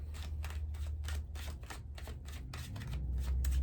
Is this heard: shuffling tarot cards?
yes